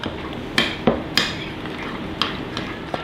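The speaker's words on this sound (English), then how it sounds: "I'm going to put it in here and give it a good mix" Chopped ingredients for a burger being mixed in a bowl: a handful of sharp utensil clacks and knocks spaced irregularly over soft background stirring noise, close and moderately loud, with no talk.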